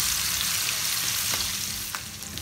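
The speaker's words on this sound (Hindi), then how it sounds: "अब इसके साथ मैंने लहसुन अदरक का पेस्ट डाल के इसको तो भूनना है" Steady, continuous sizzling of garlic ginger paste frying in a hot pan, with occasional stirring scrapes; close and fairly loud, no voices.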